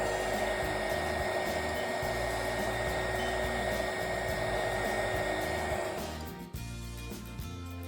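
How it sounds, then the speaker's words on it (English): A heat gun blows steadily and loudly, shrinking heat shrink wrap over soldered wires, a constant rushing hiss that cuts off near the end and leaves faint clicks and handling sounds. "and hit it with the heat gun again"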